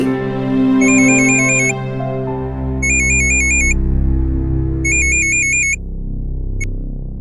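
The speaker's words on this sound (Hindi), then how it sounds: "कौन फोन कर रहा है बार बार आपको? उठा लीजिए ना।" A phone rings in three bursts of rapid electronic trills, spaced evenly apart, over a sustained musical background.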